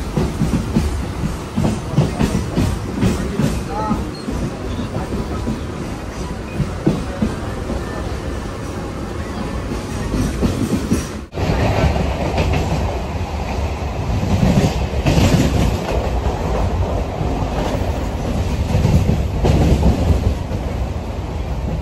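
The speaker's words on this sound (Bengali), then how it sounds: "হ্যাঁ, এটা হচ্ছে মেট্রো লাইনটা" An airport-line metro train runs steadily past, a loud continuous rumble with rhythmic wheel clatter that shifts and intensifies partway through, filling the whole stretch with no talk.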